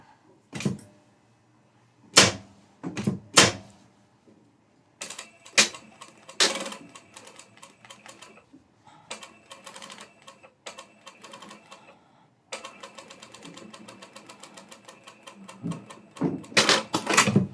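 A sewing machine re-stitches the topstitching along a pocket seam, with short mechanical bursts and pauses, then a longer run of rapid, even needle clatter near the end, close and fairly loud, without talk.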